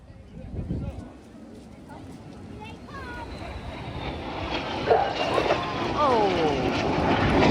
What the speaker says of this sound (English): Each aircraft can roll the correct way up back down to that 100 feet as they complete the maneuver called the boomerang.